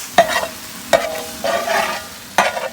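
Tomato stirred into frying onions with ginger in a pan for a spicy Andhra village-style tuna fry, a few sharp spatula scrapes over a steady close sizzle, with no talking.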